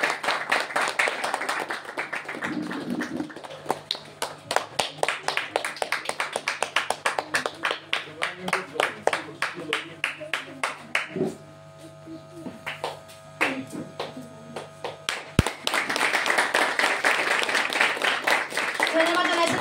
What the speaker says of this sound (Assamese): সকলোৱে হাত চাপৰি কৰিলে ভাল লাগিব